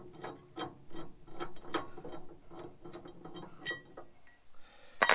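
Recovery shackle being loosened by hand during vehicle recovery work: a run of close metallic clicks and ratcheting turns, steady and fairly quiet, ending in a sharper clink.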